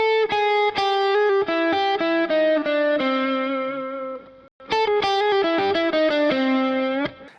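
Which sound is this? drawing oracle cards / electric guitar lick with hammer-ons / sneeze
electric guitar lick with hammer-ons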